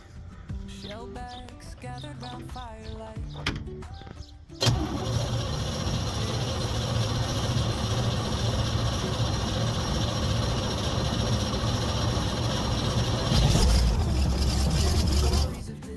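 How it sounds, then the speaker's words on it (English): A ski boat engine cranks and catches, then settles into a steady, loud idle with a brief rev near the end. A voice is heard before it fires. "Now we're gonna turn it over, fill the float bowls and then check for leaks."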